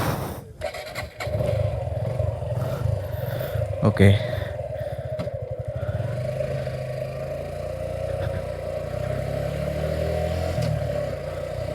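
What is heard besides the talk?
Suzuki Gixxer SF FI ABS motorcycle engine starting and running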